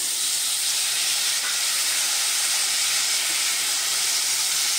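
Chopped tomatoes hitting hot oil in a pan for spicy tomato bhaji give off a steady, loud, hissing sizzle that holds evenly throughout with no voices.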